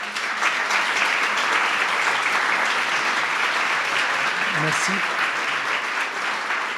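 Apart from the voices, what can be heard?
audience applauding the Kogi delegation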